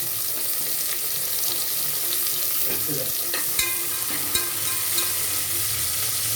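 Cut onions and tomatoes sizzle in a pan while mushroom pulao is being cooked, a steady frying hiss with occasional stirring clinks, close and continuous.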